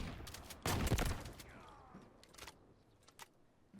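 Bursts of gunfire from the mobile shooter Delta Force: Hawk Ops, one heavy volley early then scattered lighter shots and mechanical clicks, fairly quiet overall with no talking.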